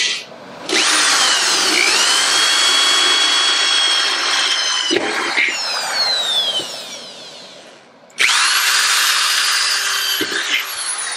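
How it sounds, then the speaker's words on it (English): Power drill drilling holes into a ratty rod motorcycle build for mounting a sissy bar and fender, two long loud whining bursts with a brief pause between them, no talking. "Why don't you start drilling holes?"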